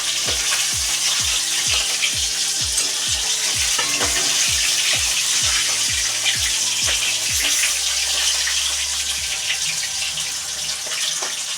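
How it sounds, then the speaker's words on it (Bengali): Catla fish pieces fry in hot oil with a loud, steady, crackling sizzle close by and a regular low thumping underneath for most of the stretch, no voices. "তো চলো মাছগুলো ভাজা হোক"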